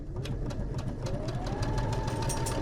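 A sewing machine with an auto threader stitches quilt pieces for an oversized baby lap quilt using a scant quarter-inch seam, giving a steady, fast mechanical whirr with a regular needle rhythm.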